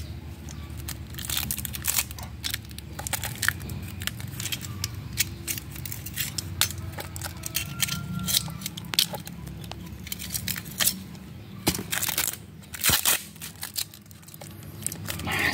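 Packing tape being pulled and peeled off a concrete block sample, giving a steady stream of crackly tearing and rustling noises with sharp crunchy bursts, close up and continuous with no talking.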